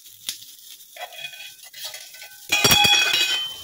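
Potatoes stirred around a kadai (wok) already holding oil from earlier frying, with a quiet start of scraping and clinks, then a louder burst of sizzling and frying from about midway as the potatoes are pushed aside.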